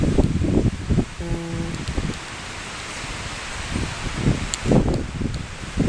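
Wind gusting across an outdoor deck, buffeting and rustling in steady broadband bursts that swell and fade over several seconds, fairly close with no talking.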